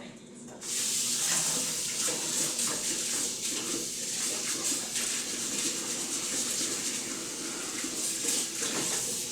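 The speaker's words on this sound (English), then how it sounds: "Try to find my favorite little spatula. I have to wash it." Tap water runs steadily into a kitchen sink as a small spatula is rinsed during pancake making, a continuous close splashing hiss after a brief quiet start, with faint clinks of utensils.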